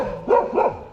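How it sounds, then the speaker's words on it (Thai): A dog gives two quick close barks or yips during an indoor family moment, each short and fairly loud, with a brief pause between them. "เฮ้ยไม่เห่า"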